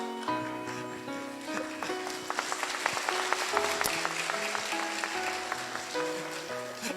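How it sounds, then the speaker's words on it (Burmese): An audience claps in a scattered burst that swells in the middle and then thins out, over a background of sustained tonal music. "သဘောကျရင်လက်ခုပ်တီးပြီးအားပေးလို့ရပါတယ်"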